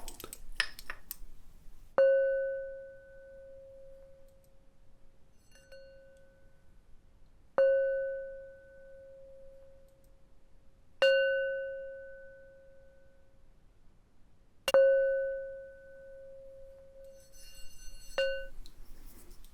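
Chimes ring out one at a time in a quiet room, four clear bright strikes spaced a few seconds apart, each tone ringing and slowly fading before the next, with faint soft handling sounds in between.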